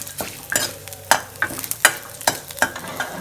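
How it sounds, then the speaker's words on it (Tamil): Onion vadagam fries in hot oil while a utensil stirs it, making distinct close scraping strokes about every half second over a soft continuous sizzle. "வெங்காயம்லாம் நல்லா பொரிஞ்சிருச்சு பாருங்கள்."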